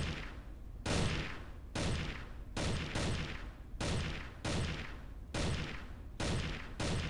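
Rapid gunfire in the Crossfire: Legends battle royale game, a steady series of about nine loud, sharp blasts spaced under a second apart, each with a short decaying tail, no voices.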